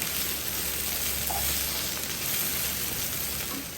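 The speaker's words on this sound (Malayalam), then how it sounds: "ഇത് നല്ലതായിട്ട് ഒന്ന് ബ്രൗൺ ആയി വരട്ടെ" Onion and garlic browning in a pan with dry thyme, giving a continuous close sizzle of frying with a faint low hum underneath and no talking.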